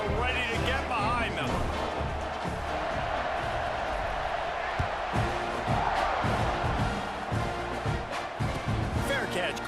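Stadium crowd in EA Sports College Football 26, a steady roar with swells of cheering under a commentator's continuous play-by-play.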